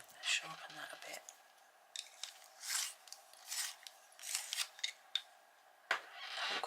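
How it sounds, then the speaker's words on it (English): Colored pencil sharpened by hand, a few short scraping grinds with pauses between them, close but quiet, with a brief murmur of speech at the start. "Let's sharpen that a bit."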